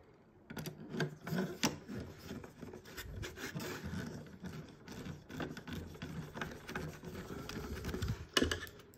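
Small plastic parts of a Nissan Skyline GTR scale model kit are screwed together close up, a continuous soft rubbing and scraping with faint ticks and rasps, fairly quiet, with no talking.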